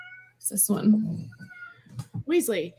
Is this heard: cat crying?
yes